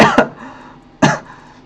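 Two sharp, close coughs from one person, spaced about a second apart, each a short harsh burst that quickly trails off.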